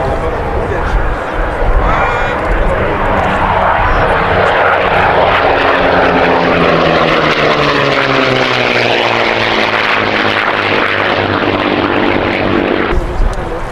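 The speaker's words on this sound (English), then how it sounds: "Wonderful sounds of the Mosquito with its Merlin engines." A de Havilland Mosquito with twin Merlin engines passes close by, a loud continuous propeller drone with a sweeping Doppler shift as it goes over; voices can be heard faintly under the engine noise.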